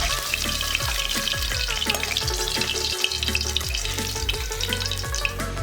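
Steady crackling sizzle of tilapia fish frying in hot oil, loud and close, with clinks and low thumps from a pan throughout and no voices.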